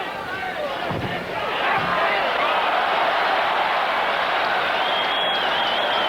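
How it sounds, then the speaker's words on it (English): A boxing crowd in an arena applauds and cheers in a loud, sustained roar that swells after a second or two, with a commentator talking over it. "Crowd applauds the sportsmanship."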